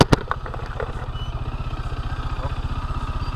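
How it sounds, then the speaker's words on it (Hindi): Bajaj Dominar 400 motorcycle rolling up close with a steady, rapid thumping single-cylinder idle pulse, a few sharp clatters at the start, no talking over it. "फाइनली अविनाश अपनी डोमिनार पे आ गया है"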